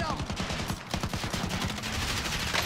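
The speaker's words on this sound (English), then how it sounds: "Oh, let me shoot." Rapid automatic gunfire in a first-person shooter video game, a steady dense stream of shots lasting the whole moment, loud and continuous.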